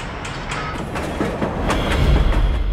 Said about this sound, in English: On the track in southwest Beijing, a strange-looking locomotive hoves into view.